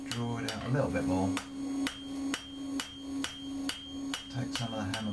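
A blacksmith forges a horseshoe into a hoof pick with a smaller finishing hammer, striking ringing metallic blows on the anvil about every half second, loud and close, with a busier flurry of hits at the start.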